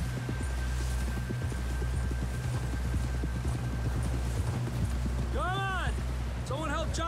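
Horse hooves clip-clopping in Red Dead Redemption 2, a steady stream of hoof falls over a low droning hum, with a rising and falling whistle-like tone near the end; no voices.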